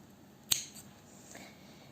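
A single sharp scissor snip trims excess yarn from a crochet cat basket, quiet and close, followed by a faint second clip and soft room hiss.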